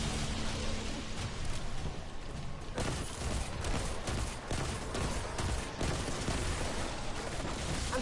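Rapid gunfire at the Blight in the video game Destiny 2 (Gambit, Forsaken): a dense, continuous burst of loud shots with sharper cracks standing out, and no voices over it.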